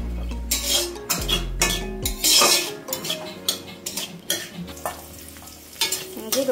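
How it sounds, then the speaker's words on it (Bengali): Garlic cloves fry in oil in a pan, sizzling steadily while a metal spoon scrapes and clinks against the pan in repeated stirring strokes, with a low hum beneath in the first half. "রসুনগুলো লাল করে ভেজে নেবো এবার এগুলো একদম।"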